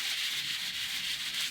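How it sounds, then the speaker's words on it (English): Two-toned cardstock is sanded hard by hand, giving a continuous, close, brisk rubbing scrape with faint surges in intensity. The sound runs steadily for a moment with no talk. "I'm having to sand extra hard"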